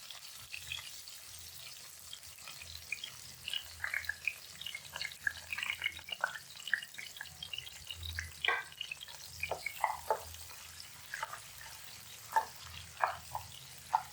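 Onions and green chilies frying in a pan give off quiet, sporadic crackles and pops over a low, faint background.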